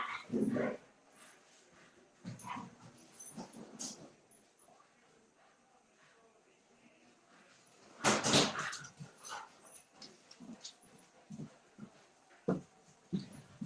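Dogs bark in scattered bursts, with a loud flurry of yips and barks in the middle, some whimpering, and quieter stretches between.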